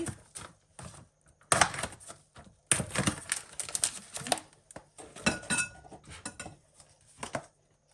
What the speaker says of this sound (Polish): Otworzę sobie mięso i włożę już do miski.